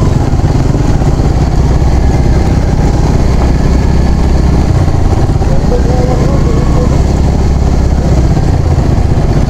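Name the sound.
motorcycle engine on off-road ride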